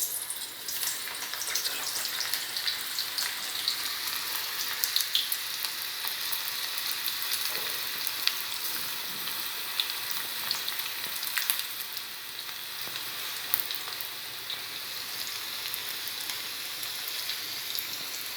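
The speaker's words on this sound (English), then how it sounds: "And now I'm ready to fry this." Onion and potato bhajji fritters fry in hot oil with a steady, dense sizzle and crackle that runs unbroken at moderate loudness, with no talking over it.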